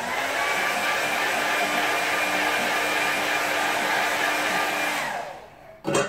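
A hair dryer blows steadily on a watercolour painting of a country lane, a loud, constant whooshing roar with a faint motor whine that runs unbroken for several seconds, then winds down and ends with a brief clunk.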